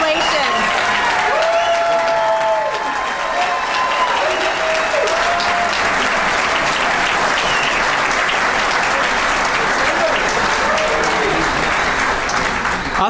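Applause at a university ring ceremony: a roomful of people clapping continuously and loudly, with scattered cheers and tonal whoops rising over the steady clatter throughout.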